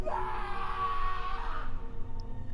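A man's drawn-out scream of terror in a horror story narration, loud and wavering for over a second before trailing off under a rumbling dark background.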